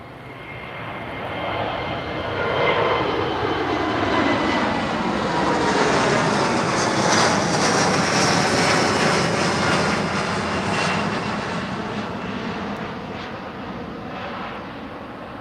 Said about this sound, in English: can see the Azores as they come closer and taxiing.